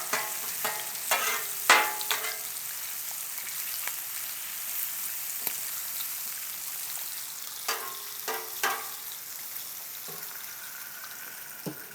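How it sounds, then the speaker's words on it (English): Bacon frying on a flat griddle grill gives a soft, steady sizzle with scattered crackles and pops throughout, moderately quiet and close, with no talking. "So this bacon's cooking really quick"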